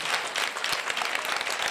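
A congregation claps during a church service, a short, dense burst of applause with individual sharp claps standing out from the crowd.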